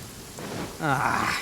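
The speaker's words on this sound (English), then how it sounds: "Uh-oh! Lightning storm!" Rain and thunder from a lightning storm in the video game Genshin Impact, a steady wash of rainfall with a low rumble that swells louder midway, joined by a brief tonal sweep.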